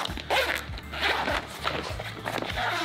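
A thick zipper on a tripod carrying bag for a Kingjoy VT-1500 fluid head tripod, pulled in several repeated rasping strokes, close and fairly loud, with faint rustling between pulls.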